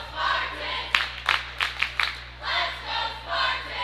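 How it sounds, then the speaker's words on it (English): Cheerleaders and the crowd at a girls' playoff basketball game chant the rhythmic Let's Go Spartans cheer, with a burst of quick shouted syllables over steady arena crowd noise. "The old-fashioned Let's Go Spartans cheer."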